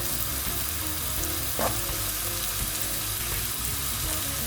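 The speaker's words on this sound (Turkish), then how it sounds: "Soğanlarımızı 5 dakika kadar kavuracağız." Onions sizzle steadily in a hot pan, a continuous crackling hiss with a brief scrape of stirring partway through.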